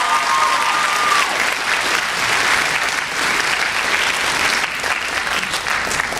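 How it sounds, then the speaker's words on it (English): A college speech-night audience claps for debaters before the rebuttals, producing loud, sustained, dense applause that fills the room evenly from start to finish, with no talk over it. "So just give them one more applause before they even begin the rebuttal."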